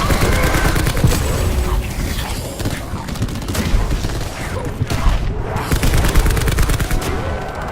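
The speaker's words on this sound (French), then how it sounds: "Cette arme, elle fait du boucan!" Heavy weapon fire in the video game Call of Duty Black Ops 4, loud dense bursts of rapid automatic shots with booming impacts, nearly continuous throughout.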